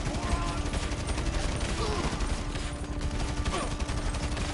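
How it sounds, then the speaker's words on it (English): In GTA 5 Online, rapid automatic gunfire aimed at the player rattles in dense bursts over a constant background din of game sound. "Who's shooting at me?"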